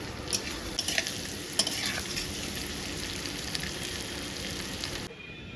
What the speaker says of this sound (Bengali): চলো এখন আলুগুলোকে লাল লাল করে ভেজে দিই।